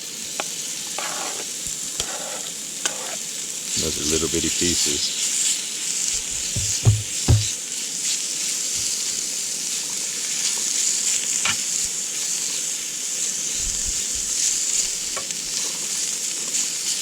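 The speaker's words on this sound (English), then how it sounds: "we're just going to kind of saute this a little bit" Pieces of wild grouse sizzle steadily while sautéing in a hot pan, with occasional scraping and stirring noises and a brief spoken comment over the frying.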